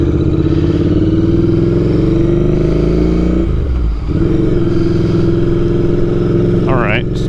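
A Royal Enfield Interceptor 650 motorcycle hums steadily under way, its engine drone close and continuous with a brief dip mid-ride, while a rider talks over it.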